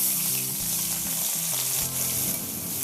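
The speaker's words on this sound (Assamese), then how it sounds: "গৰম তেলত অলপ সময় ভাজি লম।" Rohu fish pieces rubbed with salt and turmeric sizzling in hot oil, a loud continuous crackle close up with low bubbling underneath and no voices.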